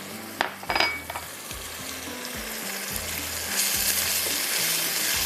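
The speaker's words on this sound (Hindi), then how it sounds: "बस चम्मच चलाते रहेगा ताकि ये थोड़ा सा मसाला इसका रेडी हो।" A spoon scrapes and stirs masala frying in butter in a kadai. A few metallic knocks come near the start, then a steady sizzle that grows louder toward the end, with no voices.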